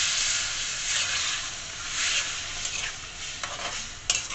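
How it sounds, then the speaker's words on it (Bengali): A little water poured into butter-fried masala in a pan, bringing a loud bubbling sizzle that slowly eases, with light stirring and a few metal clinks toward the end. "মশলাটা ভালো করে কষানো হয়ে গেছে, এর মধ্যে এবার সামান্য জল দেব"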